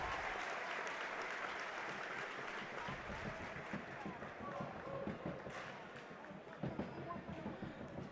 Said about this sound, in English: The crowd on Carmen West making a little bit of noise now